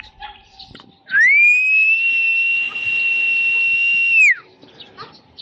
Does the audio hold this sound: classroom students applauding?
no